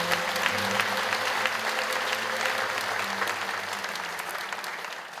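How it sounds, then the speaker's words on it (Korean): A congregation claps in welcome during a Korean Easter Sunday church service, dense even applause from a large room that slowly fades toward the end. "여러분께 박수로 환영하시죠."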